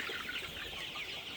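A flock of 33-day-old colour bird chickens in a curtained poultry shed makes dense, continuous clucking and cheeping, many birds overlapping at moderate volume.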